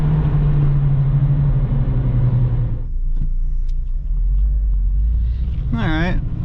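Acura RSX Type S with its K20Z1 engine, heard from inside the car on the road: a loud, steady low rumble and drone that drops back midway, then a brief rising whine near the end.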